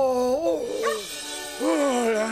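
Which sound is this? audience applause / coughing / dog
dog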